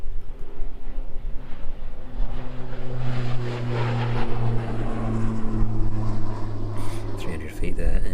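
A departing aircraft climbing away from East Midlands Airport in the evening, its distant engine roar a steady tonal drone throughout, heard from afar beneath a commentator's voice.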